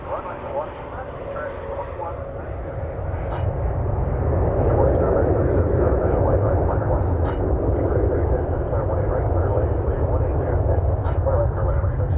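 A jet airliner takes off from runway 18 Left at Dallas/Fort Worth Airport, its broad, steady roar building after a few seconds and then holding loud and continuous.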